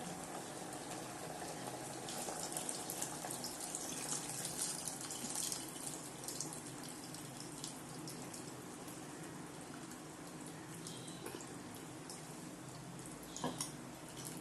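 A steady, soft trickle of tamarind water runs through a strainer, with faint splashes and small clinks, close by and without talking.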